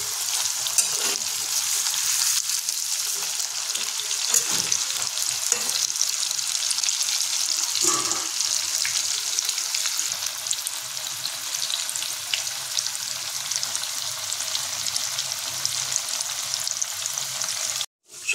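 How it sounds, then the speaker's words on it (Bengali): Boiled jackfruit pieces fry in hot oil in a wok, a steady close sizzle that holds evenly throughout and cuts off abruptly at the end. "এই তেলের মধ্যে আমরা এইভাবে বাকি সমস্ত সিদ্ধ করা এঁচড়গুলো ভাজা করে নেব"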